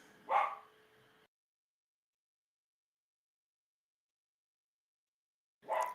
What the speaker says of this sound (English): I'm trying to time this between the barks downstairs